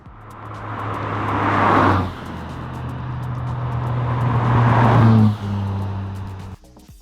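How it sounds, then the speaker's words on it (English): A McLaren F1 with its factory-fitted sport exhaust drives hard and loud, the engine climbing through two long upshifted pulls with a sharp drop between them before backing off at the end. "This car also has the factory-fitted sport exhaust that makes it a good bit louder"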